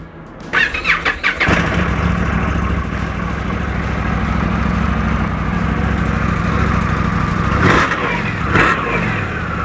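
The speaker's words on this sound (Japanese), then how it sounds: "ではスカウトクラシックエンジンかけていきます。" An air-cooled Indian Scout Classic motorcycle engine cranks with a few sputters, catches, and settles into a loud, steady low idle, with two brief revs near the end.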